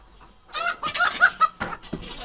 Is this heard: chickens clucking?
yes